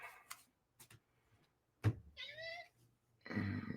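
Several house cats meowing indoors in the morning, a couple of short close meows separated by quiet gaps, with soft clicks and a brief human sound between them.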